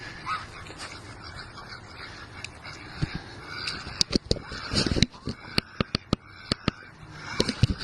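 Ducks on a home pond honk and quack in scattered, sharp bursts that grow busier partway through, heard fairly close over steady outdoor background noise.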